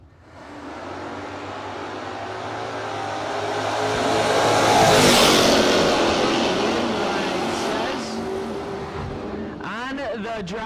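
A third-generation Camaro and another car blast down a no-box drag strip. The engine roar swells to a loud peak mid-clip and then fades as the cars pass. Announcer commentary runs along with it.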